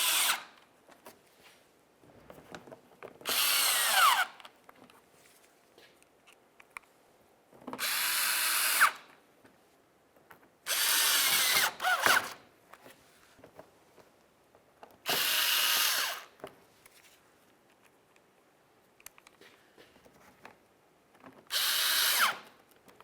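A power drill drives fender liner mounting screws on a 2007-2012 Nissan Sentra, five or six short whirring bursts separated by quiet pauses, close and clear with no talking.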